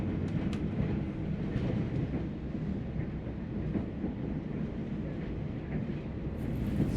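A New South Wales XPT passenger train rumbles steadily nearby, a continuous low roar with faint rail clatter and no voices.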